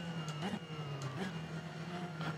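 Modded engine sound of a Ferrari 488 GT3 in the racing game Assetto Corsa, a steady loud drone whose pitch briefly rises and falls a few times, with faint background voice.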